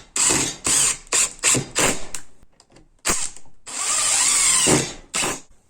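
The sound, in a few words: driving black self-tapping screws into a wooden board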